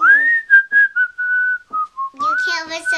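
A person whistles a song tune alone, clear and close, with a string of held and sliding notes over a few seconds and a warbling flourish at the end.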